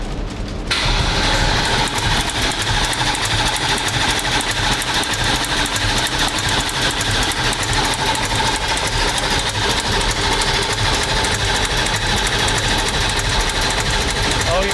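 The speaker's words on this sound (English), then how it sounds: "It's not going to start. It's just going to crank." A 1200HP AMG car engine is cranked over without starting, a steady, loud, rapid mechanical churning that runs for about fourteen seconds with no firing, while people talk faintly underneath.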